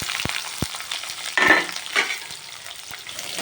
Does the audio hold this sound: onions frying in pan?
yes